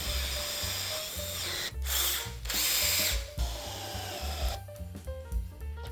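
Power drill boring a hole in a wooden newel post through a screwed-down guide jig, with loud whining bursts of motor that start and stop in short runs and pauses between them.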